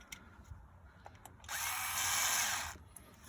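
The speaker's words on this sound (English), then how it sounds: "electric screwdriver" An electric screwdriver drives a screw into a plastic catch can fitting on a car, giving one short whirring burst of about a second after a few faint taps and clicks.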